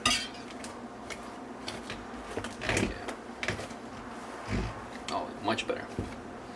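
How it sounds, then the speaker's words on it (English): A whisk works a dry flour mixture in a bowl for vegan Jamaican patty dough, making scattered scraping clinks and taps against the bowl, with people talking over it. "See, might have better luck with the whisk."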